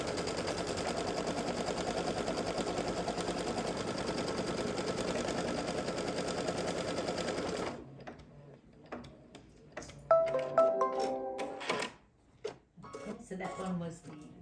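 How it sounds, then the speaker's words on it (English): An embroidery machine threaded with red thread stitches a placement line for a Kimberbell lip balm holder. A steady, dense mechanical whir runs for several seconds, then gives way to quieter, irregular ticks and clicks. "I'm going to hit embroidery, and I still have the red thread in, and hit start, and this is going to be the placement line"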